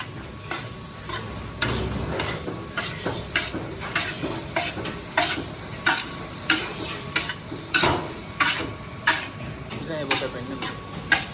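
Nasi goreng being stirred and fried in a pan, steady sizzling under repeated scraping spatula strokes in a regular rhythm, close and moderately loud.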